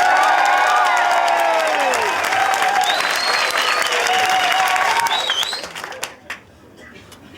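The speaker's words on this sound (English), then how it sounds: "don't just want clapping, we want whooping and cheering and all that sort of stuff as well" A live audience at a demo challenge vote bursts into loud, sustained applause with whoops and cheers, holding steady for about five seconds before tapering off into scattered claps and quiet.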